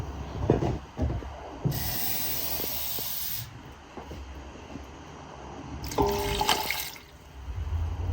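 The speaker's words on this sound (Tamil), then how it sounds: "இன்னும் கொஞ்சம் அதிகமாக தண்ணி சேர்ப்போம்." Two bursts of hissing water splash into a hot pan of cooking pasta, each lasting a second or two, with clinks and kitchen clatter around them.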